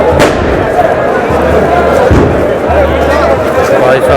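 Gunfire at the Barood ki Holi celebration in Menar: loud, booming shots burst out over a dense, roaring crowd, with one sharp blast near the start and another in the middle amid constant chatter and thumps.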